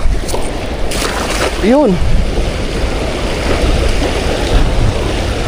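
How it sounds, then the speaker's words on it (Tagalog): Strong seawater current rushes through a tunnel, a loud steady broadband roar of flowing water close by, with a voice speaking briefly over it. "Malakas po ang daloy. Malakas dyan sa lagusan."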